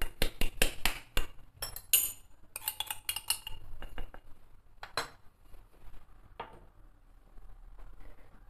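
Sugar is beaten into butter in a bowl with a utensil, giving rapid clinking and scraping taps against the bowl, loud and quick at first, then slowing into sparser, fainter knocks.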